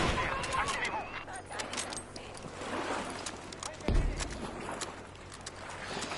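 Rapid sniper and rifle gunfire from a competitive shooter video game match in a French league, sharp repeated cracks with one heavier shot near the middle, mixed under game noise and caster talk.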